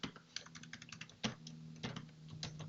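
Typing on a computer keyboard while entering a document title, a quick run of light, close key clicks in uneven bursts with short pauses and a low steady hum underneath.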